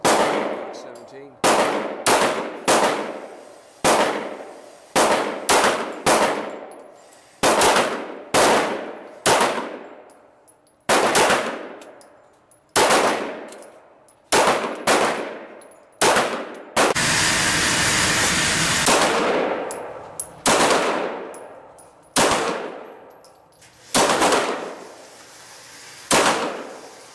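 Repeated gunshots ring out at an outdoor shooting range, sharp loud cracks spaced a second or so apart with echoing decay, plus a brief burst of hissing noise midway through.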